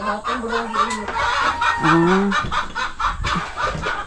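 Several chickens cluck and squawk close by in short, uneven calls, with light background activity.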